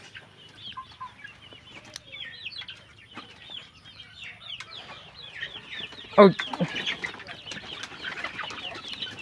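Local chickens cluck in a raised bamboo coop, a busy flock of short overlapping calls close by, with one louder squawk and a brief flutter of wings near the middle and low ambient hum underneath.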